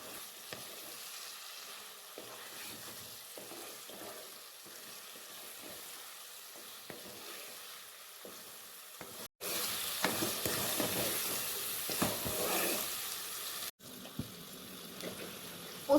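Diced potatoes sizzle steadily while being fried and stirred with poppy seeds for a potato dish with raw mango. Frying noise runs throughout and grows louder and brighter partway through, with scraping stir sounds and no talk.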